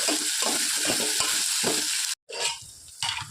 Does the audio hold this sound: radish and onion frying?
yes